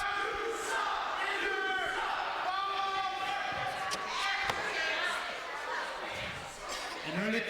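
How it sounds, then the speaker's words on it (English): Wrestling crowd at an ACW event shouting and jeering against Esteban, a loud, continuous roar of many voices with rising yells and a sharp slam partway through. "Well, definitely the crowd doesn't agree with Esteban's actions."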